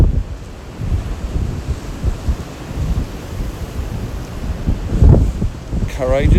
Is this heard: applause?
no